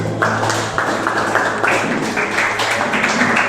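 Church congregation applauding for the Lord, a steady, dense wash of many hands clapping that fills the room with no pauses, backed by a low sustained tone.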